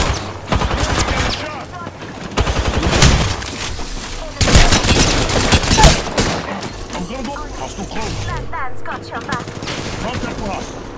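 Apex Legends gunfire rattles in loud, rapid automatic bursts and scattered single shots through a busy firefight, with brief game voice lines mixed in.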